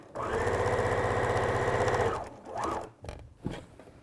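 A sewing machine stitches lining to outer fabric in a steady, fast mechanical run for about two seconds, then stops, followed by a few short whirs and clicks as the fabric is adjusted.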